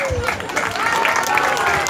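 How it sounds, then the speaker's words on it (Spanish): Clapping and crowd noise fill a clown festival show, dense and close, with voices calling out over the applause throughout. "¡Y el aplauso!"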